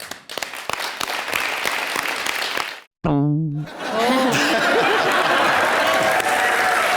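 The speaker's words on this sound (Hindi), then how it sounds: "तुमने उस टेप रिकॉर्डर पर नकली तालियां बजवाई।" Fake clapping from a tape recorder on a Hindi TV comedy show stage fills the first few seconds, cuts off abruptly, then gives way to talking and audience laughter.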